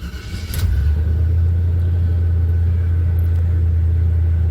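A 1978 Chevy C10 pickup truck engine cranks briefly and then catches, settling into a loud, steady, deep rumbling idle close by.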